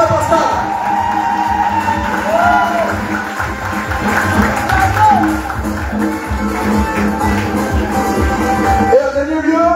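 A crowd cheers and acclaims brother Pascal at the 2025 edition of IFOFO, a sustained, loud swell of voices, whoops and applause filling the whole stretch with no pause.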